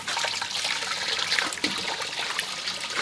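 Pig trotters being rinsed clean in water, with steady splashing and trickling running close and continuous throughout, no talk.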